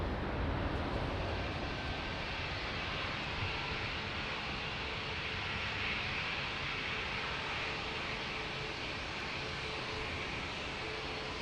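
A Ryanair jet landing at Lisbon Airport produces a steady, dense engine roar that holds at an even, loud level throughout, with no voices over it.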